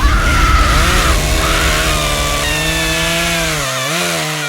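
A loud chainsaw engine whines continuously, its pitch wavering and dipping as it revs, close and alone without any voices.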